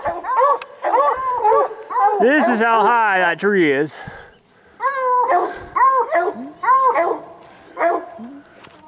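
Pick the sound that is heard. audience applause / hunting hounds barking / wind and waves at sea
hunting hounds barking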